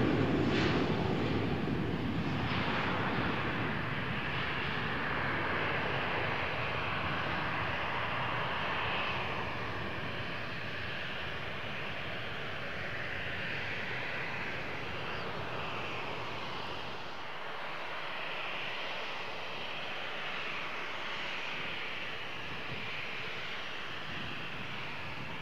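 A Jet2 airliner departs Malaga Airport bound for the UK, its engines producing a loud, steady broadband roar that holds for the whole stretch and eases slightly toward the end.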